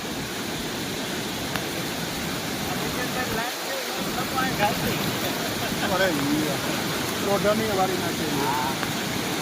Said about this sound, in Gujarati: આ બધું પાણી આમ જાય છે.